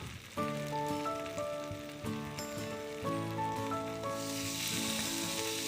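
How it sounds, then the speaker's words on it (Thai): Korean chili paste fries in hot oil with a steady sizzle that swells louder toward the end, heard under melodic background music. "เราจะผัด พริกเกาหลีกับน้ำมันให้สุกให้หอมก่อนนะครับผม"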